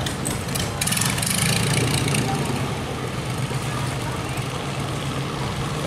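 A large motorbike engine runs loud and close with a steady, rough mid-range roar and no pauses, and a voice can be heard talking over it.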